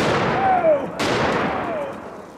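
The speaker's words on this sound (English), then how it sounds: "A 50 BMG armor piercing incendiary tracer." A single loud 50 BMG armor piercing incendiary tracer round fired outdoors at a 55 lb Olympic weight plate, a sharp crack and boom with a long rolling echo, plus a brief second impact.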